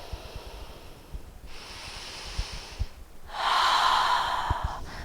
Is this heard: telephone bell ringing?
no